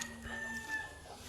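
Chickens cluck and call faintly at a distance in a quiet rural setting.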